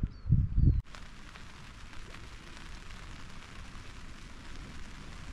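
Rain falling on a cheap hot tent during summer wild camping, a steady soft patter heard from inside, preceded by a brief burst of louder rustling or handling noise at the start.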